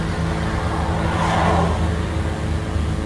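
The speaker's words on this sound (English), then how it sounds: "the car turning as it sees us filming" A car turning on a road in Ghana, its engine hum rising and falling briefly with a whooshing swell mid-way, fairly close and steady, no voices.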